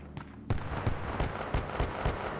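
Gunfire at a shooting range in a game, heard as a sharp burst of about six loud cracks spaced roughly a third of a second apart, with fainter shots before them and no talking.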